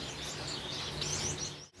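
Bengalese finches in a bird breeding room, a busy chorus of small chirps and tweets layered close together, fairly near and continuous, cut off by a brief dropout near the end.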